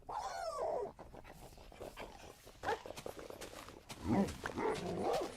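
Dogs in a survival video game pant quickly and rhythmically at close range, mixed with light pattering footsteps and a couple of sharper whines or yips toward the end.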